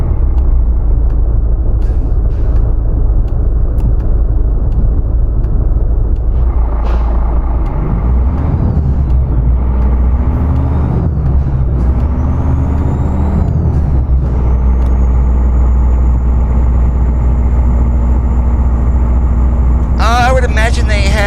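Caterpillar C15 engine, 600 horsepower, in a Freightliner Classic XL truck in American Truck Simulator, a steady low rumble that rises as the truck pulls away, with a hiss of air brakes early on and a sharp sound at the end.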